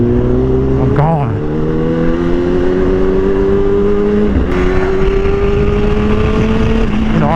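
A Kawasaki ZX-10R superbike engine revving loud and close, pitch climbing steadily through two runs with a quick shift between them, and a voice speaking over the roar.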